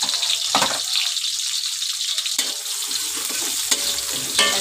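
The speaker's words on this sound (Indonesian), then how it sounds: "Kita tumis dulu bawang merah." Shallots sautéing in hot oil for a Padang-style gulai, a close crackling sizzle with a few stirring scrapes, loud and steady over a short stretch with no voices.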